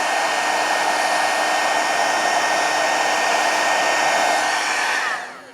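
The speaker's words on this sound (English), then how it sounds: "if you put your heat gun on too long, it will burn the snow" A heat gun blows loud and steady while drying embossing snow paste on a Christmas craft mini album, a constant close whooshing roar that cuts off at the end, with no speech.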